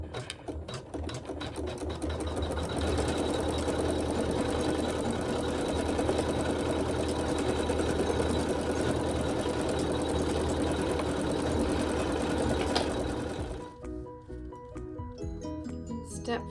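A sewing machine quilts a fabric block in one long, loud, unbroken run of rapid stitching with a mechanical hum, stopping near the end, followed by quiet.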